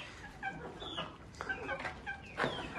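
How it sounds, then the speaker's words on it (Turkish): Several three-month-old chickens, including Sussex, cluck and murmur nearby in a new coop in short, irregular calls, with one louder squawk near the end. "Tavuklar böyle."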